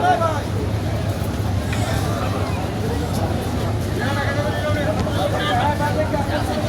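A river passenger launch docking and held by a rope, heard as a steady rumble of engine and water with wind noise and crowd chatter all around, and voices talking throughout.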